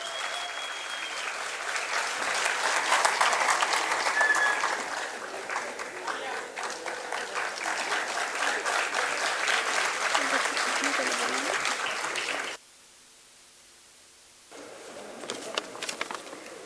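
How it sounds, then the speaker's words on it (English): Loud, sustained applause from an audience for the winning teams at the Gaston 2025 prize ceremony, dense clapping for about twelve seconds before a brief hush and a quieter return of scattered claps. "Give them a huge round of applause, everyone."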